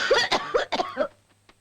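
Several short, sharp coughs in quick succession, close and fairly loud, then trailing into quiet.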